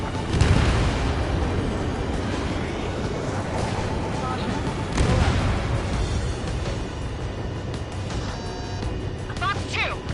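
Bombs exploding on target in the aerial combat video game Ace Squadron, with heavy booms and rumbling blasts amid engine drone and radio voices.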